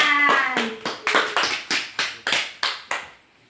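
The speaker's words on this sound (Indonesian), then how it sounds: "Oke, tepuk tangan." A classroom of students claps together in a steady rhythmic pattern, about nine crisp, close group claps evenly spaced before stopping.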